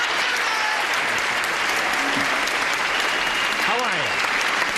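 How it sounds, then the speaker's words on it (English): Studio audience applause on the 1975 Match Game TV show, a steady dense wash of clapping filling the room throughout, with a voice speaking briefly over it. "we give a brief, polite round, but heartfelt round of applause to the two new kids on the block, Bob Barker and Rona Barrett."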